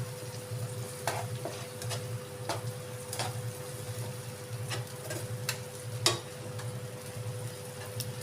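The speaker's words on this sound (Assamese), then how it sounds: "এতিয়া মই অলপ সময় এইদৰে ভাজি ল'ম আৰু অকণমান পানীটো শুকুৱাই ল'ম।" Chopped tomatoes for kadhai paneer fry in a pan as their juices cook down. A soft, steady sizzle is broken by scattered sharp taps of a spoon against the pan.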